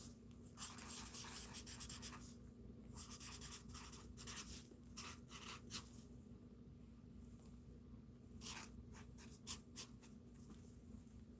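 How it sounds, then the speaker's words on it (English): Pen strokes scratch across paper as a baby's name is written by hand, in short, irregular, close bursts with brief pauses between words and a faint steady hum underneath; no one speaks. "let me just write down the baby's name"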